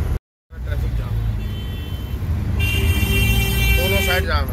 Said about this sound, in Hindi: लेकिन जाम बहुत है पूरी किसी प्रीत विहार से लेकर हर जगह जाम ही जाम है।